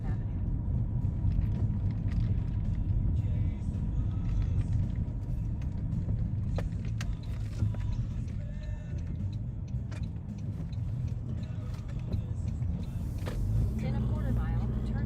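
Steady low road rumble inside a car on a food delivery drive, continuous engine and tire noise throughout, with someone talking and a navigation voice over it.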